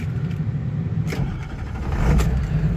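A cold 2000 Ford F350 Lariat 4x4 dually with about 216,000 miles cranks and fires up, settling into a loud, steady low rumble that swells slightly near the end, close to the microphone.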